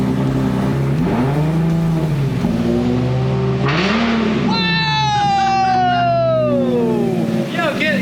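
A loud Nissan 370Z with a manual transmission revs hard through its exhaust, the pitch sweeping up and down close by. Excited voices talk over the engine.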